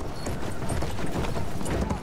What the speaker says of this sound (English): Captain Walker spurring his horse towards the fortress